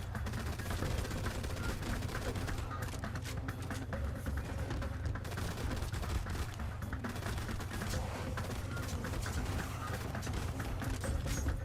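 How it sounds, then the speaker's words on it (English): A submachine gun fires in the R.I.P.D. video game, a dense, continuous rattle of rapid shots that stays fairly quiet and even throughout. "this submachine gun definitely is seeming to work better than the shotgun"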